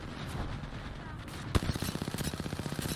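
Rapid automatic gunfire in Apex Legends during ALGS scrims rattles in a quick burst after a sharp crack, a dense stream of shots over background game noise and faint voices.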